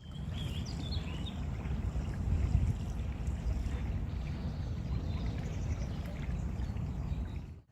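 A boat cruises slowly along a canal among small islands, giving a steady low rumble of engine and water with light wind noise, continuous and even throughout.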